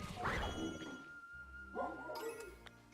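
Puppy Pokémon in Pokémon Violet give a few faint, quiet yips and barks at night, scattered over soft game background ambience.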